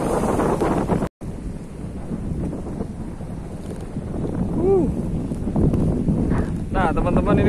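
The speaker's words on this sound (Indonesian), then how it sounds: "ini kondisi anginnya cukup kencang ya" Strong wind buffets the microphone at a bay where pinisi boats are moored, a loud, continuous roar with gusty swells, briefly cut once, and faint voices beneath it.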